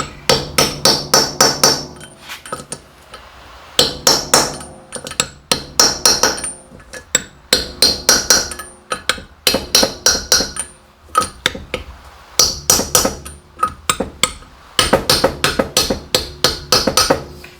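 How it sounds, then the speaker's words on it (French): A hammer taps a socket down into an engine cylinder head, with quick bursts of sharp metallic blows in repeated groups separated by short pauses, loud and close, with no talking. "Prendre un marteau. Une douille. Je l'installe là-dedans."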